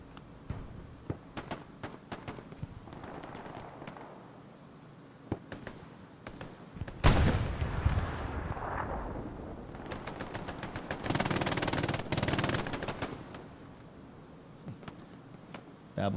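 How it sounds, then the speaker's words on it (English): Machine gun fire in Hell Let Loose on the Omaha map, long rattling bursts from MGs interspersed with scattered single gunshots and booms, loud and close with some distant rolls of fire. "Just hear that sound of those MGs."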